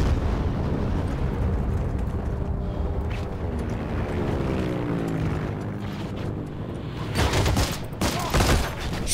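Gunfire and explosions in the World War II shooter game Heroes & Generals: a loud, dense, continuous rumble of battle with overlapping blasts and droning engines, swelling into heavier bursts toward the end.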